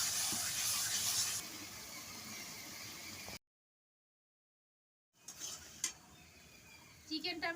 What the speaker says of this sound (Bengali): এবার আমি দিয়ে দিচ্ছি চিকেন। চিকেনটা দিয়ে আরও কিছুক্ষণ ভালো করে কষিয়ে নেব।